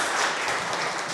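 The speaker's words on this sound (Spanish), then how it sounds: "Aplauso para los dos equipos, por favor." Audience applause for two teams at a live talk on leadership, a steady dense wash of clapping that fills the short moment without a break.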